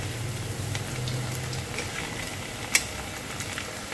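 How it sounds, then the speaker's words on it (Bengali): Spice-coated cauliflower florets deep frying in hot oil, a continuous soft crackling sizzle with a single sharp click partway through, no voices. "মশলার মধ্যে ফুলকপিগুলো কোটিং করে ডিপ ফ্রাই করছি।"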